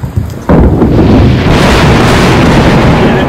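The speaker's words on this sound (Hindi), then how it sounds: "कितने भयंकर तरीके से बिजली कड़क रही थी" A sharp, loud crack of thunder at night during a cloudburst storm in Uttarakhand breaks out and rolls into a long, heavy rumble, with heavy rain hissing steadily in the background.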